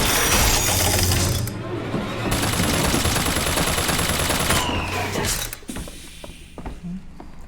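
Rapid automatic gunfire rattles loudly and continuously from a firefight in BioShock Infinite, a dense mechanical burst that eases off and thins out toward the end, with no voices over it.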